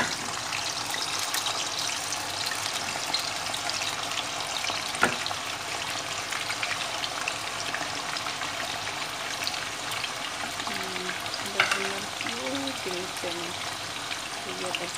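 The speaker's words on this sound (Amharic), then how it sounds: "ድንችን ጠብሳለሁ ማለት ነው።" Potatoes frying in a pan for a chicken roast dish, a steady close sizzle and crackle running the whole time, with a couple of brief clinks and a voice speaking near the end.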